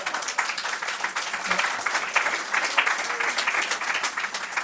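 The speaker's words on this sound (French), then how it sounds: "Non, vous l'applaudissez" Audience applauding a speaker at a public debate forum on seniors at work, dense continuous clapping filling the room, with a voice faintly mixed in.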